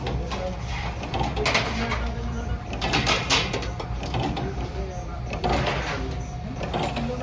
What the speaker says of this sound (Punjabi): ਇਹ ਹੈਗੀ ਮਸ਼ੀਨ ਆਟੋਮੈਟਿਕ ਸਾਰਾ ਕੁਝ ਦੇਖ ਲਓ ਹੁਣ ਆਟੋਮੈਟਿਕ ਹੋ